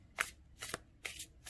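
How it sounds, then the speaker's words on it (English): Tarot card deck being overhand shuffled by hand: three quick crisp riffling bursts of cards sliding against each other, close and fairly quiet, evenly spaced over about a second and a half with no speech. "check out the overhand shuffle, see how it goes for overhand shuffling"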